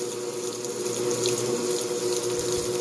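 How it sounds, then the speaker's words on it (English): An overloaded GE belt-drive washing machine runs a spray rinse, water spraying and splashing continuously at a steady, loud level, a dense rushing hiss without pause. "It definitely has a long spray rinse. There's so much water going everywhere."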